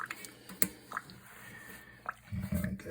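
An old sponge pressed into a Niagara Stealth toilet tank during installation soaks up water, making close, quiet squishes and small drips with brief wet sloshing at the end.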